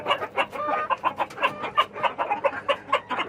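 Frizzle chickens inside a barn give a rapid run of close, repeated clucks in a steady pulsing rhythm, loud and clear with no talk over them.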